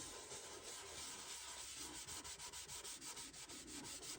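Varnish rubbed by hand onto a soft cedar seven-string lyre, a faint, close rubbing hiss in quick back-and-forth strokes that pulse evenly with no voices.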